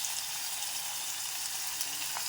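Chopped tomatoes sauté in a hot pan with a constant, even sizzle, close and moderately loud, with no voices.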